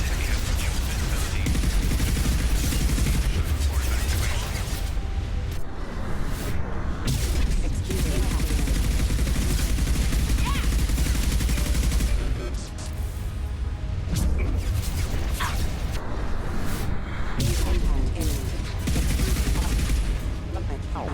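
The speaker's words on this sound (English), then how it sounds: "The recoil is still a factor when it comes to a Revenant rifle, but besides that, it's not bad at all." Rapid automatic bursts from the Revenant rifle in the shooter Mass Effect 2, loud and dense, with brief pauses between long volleys amid other battle sounds.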